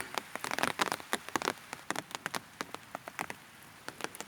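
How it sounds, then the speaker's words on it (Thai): Large raindrops patter and smack onto a surface in an uneven, steady stream at Pa Hin Ngam National Park, each splash distinct and close against a soft rain hiss. "ฝนก็เม็ดใหญ่ อยู่พอสมควร"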